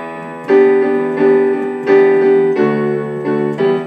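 Sustained piano chords, voiced with a G on top, ring out one after another, each struck clearly and left to decay, played alone at a slow, even pace.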